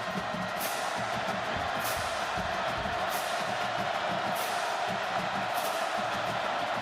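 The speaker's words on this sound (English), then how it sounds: "Crowd back into it for the Oklahoma defense" A college football stadium crowd roars for the Oklahoma defense in the TCU vs Oklahoma game, a broad, distant, steady wash of cheering, with a commentator's voice over it.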